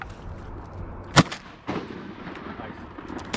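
A shotgun fires at ducks on a hunt for diving ducks, one sharp loud report followed by a softer second shot, with quiet outdoor background.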